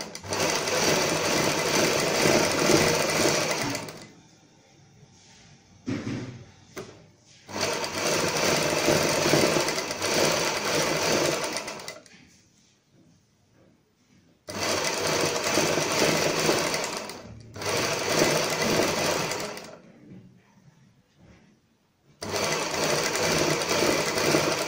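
A sewing machine stitches along a fabric strip for dori piping potli buttons, running in loud, close, steady whirring bursts of several seconds separated by short quiet pauses.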